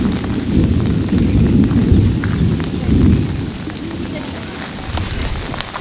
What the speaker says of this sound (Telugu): ఘోరంగా వర్షం పడుతుంది